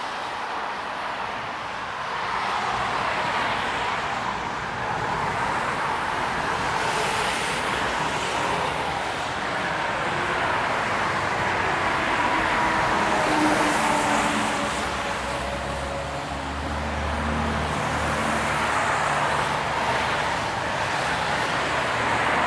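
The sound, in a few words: road traffic on Bloor Street East, Toronto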